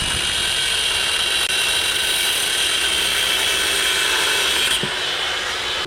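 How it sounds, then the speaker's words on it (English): A grinder is used to cut open packaging for a winch install, giving a continuous loud, high-pitched whine that holds steady before tapering off near the end. "With a grinder."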